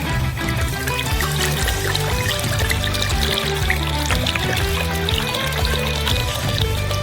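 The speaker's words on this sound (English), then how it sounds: "Pour the red wine into a bowl." Red wine poured into a bowl, making a steady close liquid splashing and trickling that runs unbroken throughout.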